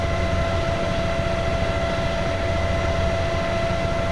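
A small aircraft, apparently a model airplane, drones steadily with a constant engine tone and no let-up, loud and continuous with no voices.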